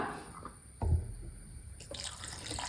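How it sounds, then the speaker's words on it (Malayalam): Water is poured into a pot of Kerala sambar: a brief splash, then faint trickling and sloshing over a quiet kitchen background. "കുറച്ചുകൂടെ ആവശ്യത്തിന് വെള്ളം ഒഴിച്ചു കൊടുക്കാം"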